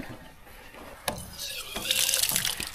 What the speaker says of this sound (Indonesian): pakai keran sekarang tuh